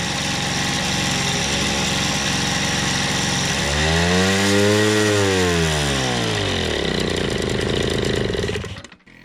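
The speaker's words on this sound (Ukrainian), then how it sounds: "Мопедик на ходу, правда їде помалу." An old Jawa moped engine, restored after nearly eight years standing idle, running with a loud, buzzing two-stroke drone that swells in pitch midway, then settles before cutting off at the end.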